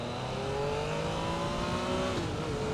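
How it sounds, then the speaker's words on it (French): A Yamaha MT-09 motorcycle engine revs steadily and loudly, its droning pitch rising and holding, then dropping slightly near the end. "Il est temps de faire chanter ce joli moteur."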